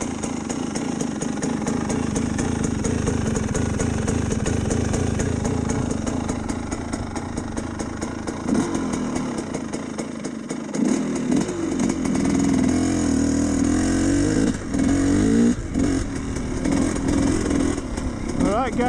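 A GPX TSE 300R motorcycle engine runs steadily throughout, its pitch shifting as it revs and settles, with a rougher patch of throttle changes in the second half.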